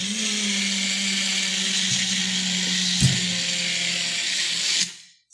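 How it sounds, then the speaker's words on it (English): A powerful, large kitchen blender blends aubergine without added water, a steady loud motor whir running alone for nearly five seconds before it switches off and winds down. "So we put it right in there, into the blender,"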